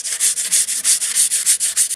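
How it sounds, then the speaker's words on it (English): Hand sanding of the wooden edge on a 1940s clothes-drying mangle under restoration: about a dozen steady back-and-forth rasping strokes, close and fairly loud, in an even rhythm with no talking. "we'll continue sanding down the outside"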